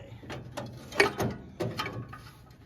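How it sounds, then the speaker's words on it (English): A breaker bar is worked back and forth on a seized balancer bolt of a Mopar big block in a 1969 Dodge Coronet, giving several faint metallic clicks, creaks and knocks at an uneven pace. "So let's try a bigger breaker bar."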